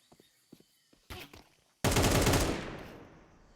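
Counter-Strike MP5 submachine gun fire in a professional IEM Kraków match: a few soft taps, a short burst, then a loud sustained automatic volley that rings out and fades, close and unaccompanied by talk.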